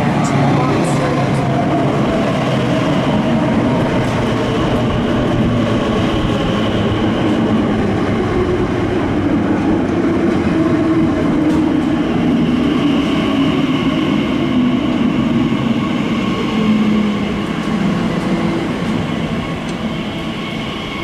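A train rumbles steadily at the Custom House station platform, a continuous close rolling drone with faint wheel noise, while a voice speaks over it.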